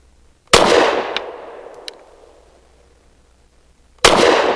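A SIG P365 pistol loaded with 115 grain ammunition fires two sharp, loud shots about three and a half seconds apart, the first ringing out with a long decaying echo before the second.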